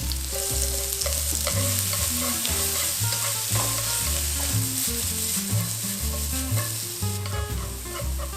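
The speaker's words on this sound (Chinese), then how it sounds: "之后呢，我们就把红萝卜放下去炒软。" Carrots stir-fry in a wok alongside ginger that is already slightly charred, with a busy sizzle and stirring clatter heard under background music.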